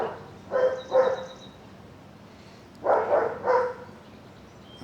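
Dogs barking in two short bursts of a couple of yaps each, moderately distant and separated by a quiet pause, with no talk over them.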